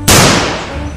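A single sharp crack from a toy Beretta pistol, loud and close, with a quick attack and a short decaying tail.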